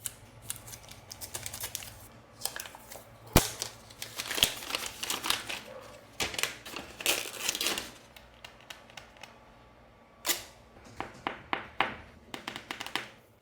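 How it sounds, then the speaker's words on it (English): A sticker is peeled and crinkled off a new Xiaomi 13T phone during unboxing, heard as close, faint scratchy tearing and plastic crackles in scattered bursts with small taps between them. "So, let's remove this sticker."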